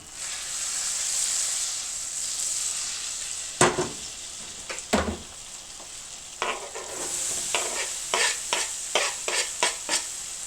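Onion cooking in butter in a pot for a macaroni casserole: a steady high sizzle, then a couple of scraping stirs and a quick run of rhythmic spoon scrapes against the pot near the end.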